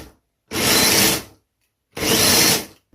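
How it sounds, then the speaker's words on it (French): Blender grinding cashew nuts into powder, two short loud whirring pulses separated by a brief silence, close and with no voices. "il n'y a plus qu'à mixer"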